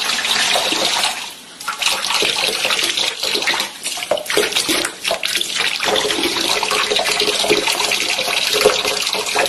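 Water flows steadily from a water source into a container, a loud continuous splashing gush at close range with slight dips and surges in the stream.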